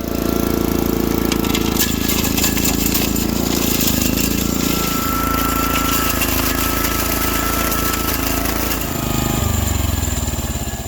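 A rock crusher breaking gold ore, close and loud, with a continuous grinding engine roar and constant rattling that shifts in pitch as the load changes, no voices.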